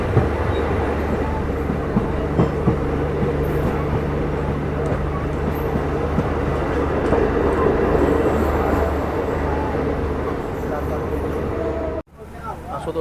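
Inside a coach of a Nepal Railway train under way, a constant loud rumble and rattle carries faint rhythmic clacks and brief engine tones, then cuts off abruptly near the end.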